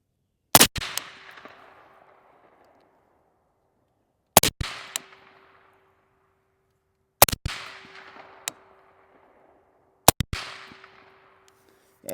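Four suppressed gunshots from a SilentAF Vigilantis suppressor firing Fiocchi ammunition outdoors, each a sharp crack followed by a short decaying tail, spaced about three seconds apart with quiet between.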